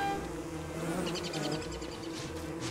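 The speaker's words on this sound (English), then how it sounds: "Bee." Buzzing bees in the game Don't Starve Together swarm over a dense, steady bed of game sound, with a rapid pulsing drone rising mid-clip and holding close and moderately loud to the end.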